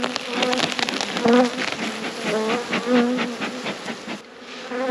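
Honeybees buzz steadily around a busy beehive, with a dense, close, continuous drone of many wings and individual bees droning past near the listener.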